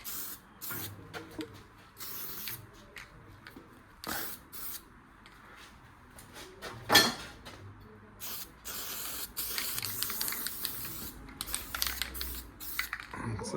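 Aerosol paint sprayed in short hissing bursts onto a motorcycle sissybar for a patchy patina finish, on a Triumph hardtail bobber, with irregular spurts and pauses and some handling noise between them.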